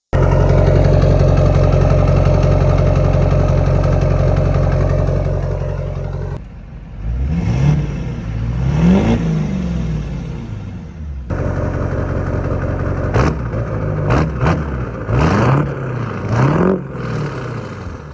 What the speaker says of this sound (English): But let me show you guys how this sounds right now.